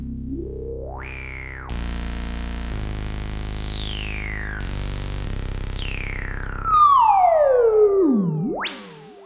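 Access synth plugin driven from a Novation Launchkey MK4, playing resonant filter sweeps soaked in delay and reverb: loud, siren-like rising and falling tones, whistling resonant peaks and gliding pitch dives, heard alone without talk.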